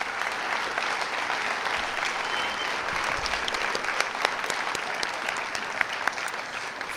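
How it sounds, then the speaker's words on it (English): Sustained applause from an audience at a school awards night, steady clapping from a large hall crowd lasting several seconds at even volume, with no speech over it. "One more round of applause, please"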